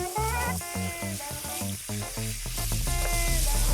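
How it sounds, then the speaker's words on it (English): Food sautéing in a pan with lemon nearby, a sizzle heard under prominent background music that carries throughout. "what we're going to do is we're basically going to saute these in all that flavour."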